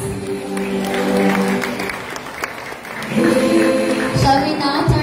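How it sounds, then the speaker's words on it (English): A crowd applauds the crowning of Reyna Elena 2024 at a community pageant, sustained clapping that swells after a brief dip, with a voice speaking over it. "Why don't you give them a round of applause?"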